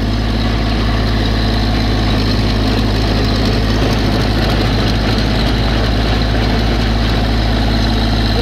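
A tractor engine idles low and steady while tilling a garden, creeping along at low RPM with cruise control set; a constant close rumble with no talk throughout.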